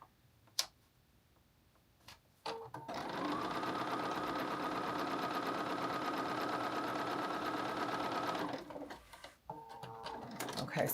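A sewing machine runs steadily for several seconds stitching the side seam of an oversized blazer, a continuous close mechanical whir, with brief clicks and handling sounds before and after.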